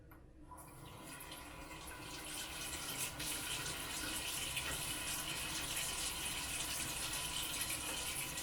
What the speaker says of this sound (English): And then I'm going to rinse that off